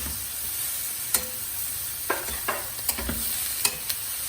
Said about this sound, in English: now I'm going to add the potatoes. These are 2 medium-sized boiled potatoes